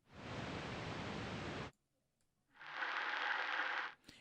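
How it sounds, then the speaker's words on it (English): Tape hiss from a lofi tape plugin rushes as a broad, steady noise, cuts out briefly, then returns with a hum of motor noise running beneath it before stopping abruptly. "You have your hiss, which is just the amount of tape noise, and then you have your motor noise"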